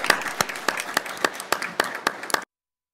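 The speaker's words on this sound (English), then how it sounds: "you deserve all of our applause." A few people at a city council meeting clap slowly and sparsely, about nine distinct claps in an even rhythm that stop after two and a half seconds.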